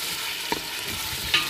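Tomato paste frying in a pan for a Djerba-style fish couscous, a steady close sizzle with a couple of small stirring clinks, no voices.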